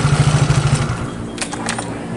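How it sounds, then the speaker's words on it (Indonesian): Motorcycle engine chugging close by with a rapid, pulsing idle that smooths into a steadier drone, loud and alone with no talking. "ributnya motor bro"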